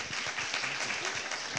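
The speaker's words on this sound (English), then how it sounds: "Let's give a big round of applause." At a book talk on surveillance, the audience gives a brief, fairly faint burst of applause thanking the presenters, with dense overlapping claps heard for a moment.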